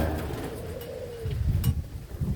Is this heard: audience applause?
no